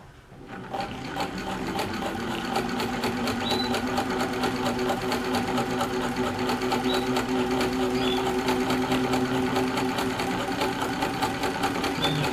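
A Singer sewing machine fitted with an adjustable hemmer starts up and runs steadily, a close, even mechanical whir with rapid regular needle ticking that continues without a break.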